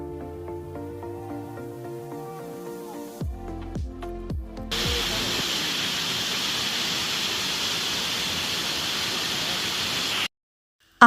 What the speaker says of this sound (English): Our next stop is Whangarei Falls, often called the most photogenic waterfall in New Zealand.